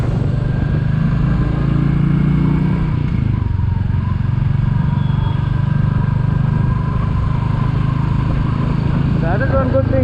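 A 2021 Royal Enfield Classic 350 motorcycle idling, a steady low thumping engine pulse that stays loud and close throughout, mixed with road rumble and no speech.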